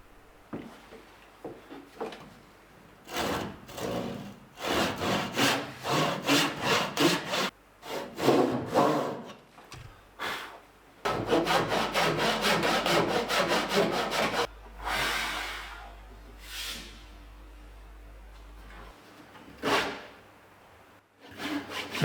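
A tenon saw cuts through a wooden boat keelson timber by hand, in close runs of steady rasping strokes with brief pauses between bursts.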